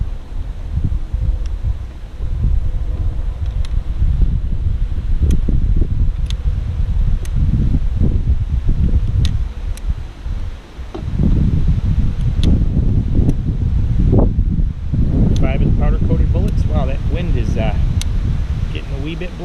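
Gusty wind buffets the microphone at an outdoor shooting range in low rumbling surges that rise and drop over twenty seconds, with short pauses between gusts and faint bird chirps near the end.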